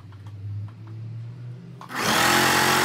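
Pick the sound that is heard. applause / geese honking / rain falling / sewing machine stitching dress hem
sewing machine stitching dress hem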